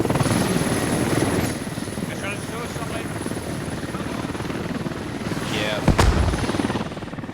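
An enemy helicopter in a video game thrums with a steady rotor drone, with voices talking over it and a sharp bang near the end.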